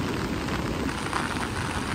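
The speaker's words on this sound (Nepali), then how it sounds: "ल फर्किनु बेला कसरी पऱ्यो पानी त" Rain falling outdoors on a rural path in Ghanpokhara, Lamjung, Nepal, a dense even patter close to the microphone with no voices.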